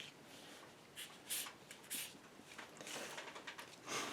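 Pencil strokes scratching across paper while sketching a fairy, a quiet, close run of soft rubbing strokes and short scribbles with brief pauses, no voices.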